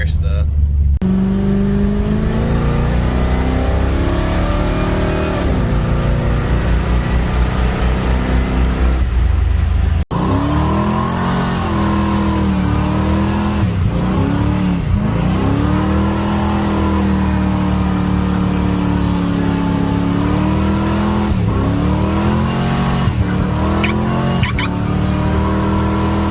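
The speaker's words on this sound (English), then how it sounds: "Basically, you do burnouts." A 1975 Dodge Dart Swinger muscle car engine roars loudly and continuously during a burnout, revving up and down with rising and falling pitch and some screeching.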